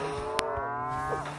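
A cow moos in the Deeeer Simulator video game: one long, steady, loud low moo running through the whole clip, with a brief sharp click partway in. No one speaks.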